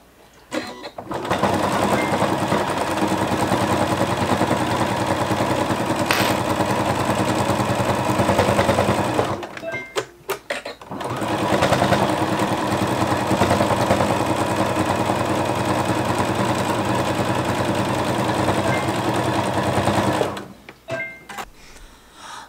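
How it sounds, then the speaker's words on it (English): A sewing machine stitches quilted tote bag pieces in two long continuous runs of steady rapid mechanical whirring, each about nine seconds, separated by a short pause with clicks and handling. "Let's get this one sewn down first."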